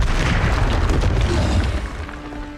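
Incendio fire spell burst in Hogwarts Legacy, a loud, deep booming blast with roaring fiery rumble that gradually tapers off toward the end, with no speech.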